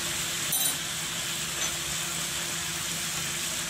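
Ghee sizzling in a pan alongside pieces of liver, a steady, soft hiss of frying that stays even throughout with a faint clink near the start.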